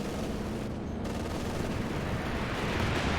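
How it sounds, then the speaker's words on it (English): Aircraft strafing run in Company of Heroes 2: a dense, continuous roar of rapid gunfire and rumbling impacts, loud and sustained throughout with no talk. "And here comes the strafe."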